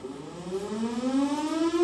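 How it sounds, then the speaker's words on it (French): A tsunami warning siren wails steadily at a distance in Tahiti, its tone slowly rising, loud and alone with no voices. "C'est une sirène redoutée par tous."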